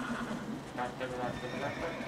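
Horse whinnying in the Red Dead Redemption video game, a loud neigh alongside clip-clopping hooves and game ambience, with a person talking over it throughout.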